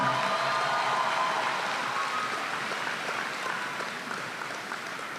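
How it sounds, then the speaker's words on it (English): Applause fills a high school commencement hall, honoring two recognized students from the Class of 2019. It is a steady, distant wash of many hands, softening slightly toward the end. "let's give both of these students a big, huge round of applause for being recognized"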